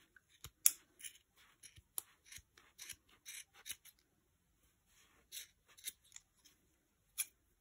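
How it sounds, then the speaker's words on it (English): Sharp scissors snip through a bundle of wrapped wool yarn for a kids' Easter chick craft, a series of short, close, crisp cuts in irregular bursts with brief pauses between them. "using a nice sharp pair of scissors"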